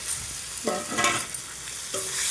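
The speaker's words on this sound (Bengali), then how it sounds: "এবার আলুর সাথে ভালো করে একটু নেড়ে চেড়ে" Potatoes stirred with fried spices in a pan, a close sizzle broken by several scraping strokes of a spatula against the metal.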